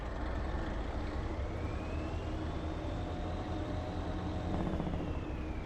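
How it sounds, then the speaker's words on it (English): A heavy truck's Jake brake (engine brake) running close and loud: a deep, continuous rumbling roar with a faint whine that slowly rises and falls over it, and no voices. "Oh, that Jake brake though sounds meaty."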